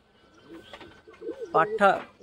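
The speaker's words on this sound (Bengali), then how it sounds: "আবলুক নর পায়রাটা দেখো" A male Abaluk pigeon in a loft coos softly in a few low, rolling calls, close to the microphone, while a person speaks over it.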